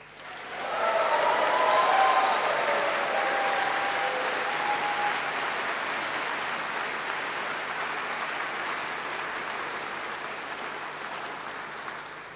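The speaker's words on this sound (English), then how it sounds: "big round of applause and some cheers." Graduates at a university winter graduation ceremony break into a big wave of applause mixed with cheers and whoops. It swells fast to a peak, then holds as a thick, sustained roar of clapping that slowly tapers.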